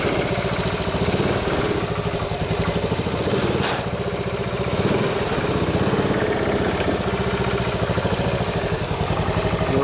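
A motorcycle engine idles steadily nearby with a lumpy, even mechanical throb that holds for the whole stretch, loud and constant, with one brief sharp tick partway through.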